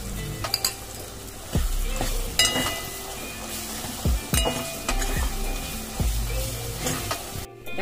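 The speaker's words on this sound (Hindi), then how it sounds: "सारे सूखे मसाले डाल देंगे। इसे 2 मिनट भूनेंगे। दाल का पेस्ट डाल देंगे।" Dry spices and lentil paste frying in oil over a low flame, a continuous sizzle broken by repeated scraping stirs and clinks of a spoon against the pan, close and fairly loud.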